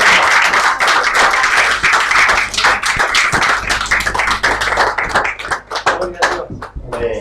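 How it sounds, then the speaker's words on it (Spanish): A church congregation in Santiago, Chile applauds with dense, sustained clapping that thins out toward the end, while voices speak over it. "Aplaude al Señor"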